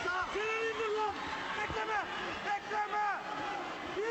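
A crowd at a 2004 martial arts event shouts and screams at high pitch, mostly young female fans, in a dense excited chorus of overlapping voices.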